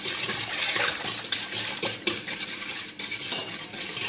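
Vanilla sugar and plain sugar being mixed in a bowl while making a soft brioche, a steady gritty scraping and clinking of utensil against the bowl, close and continuous with rhythmic strokes.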